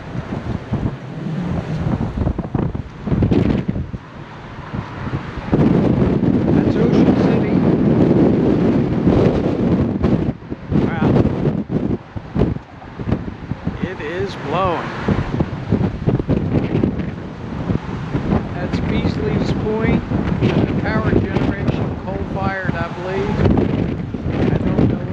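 Strong wind buffets the microphone on a fishing pier on the shore between Somers Point and Ocean City, New Jersey, a loud continuous roar with surf underneath and a voice occasionally speaking.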